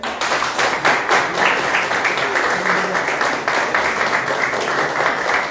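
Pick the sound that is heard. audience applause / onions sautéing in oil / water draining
audience applause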